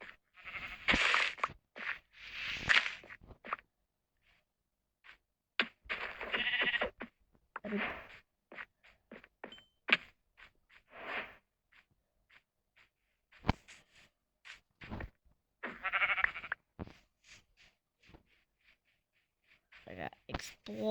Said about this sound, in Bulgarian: А има овца, която искам да стигна.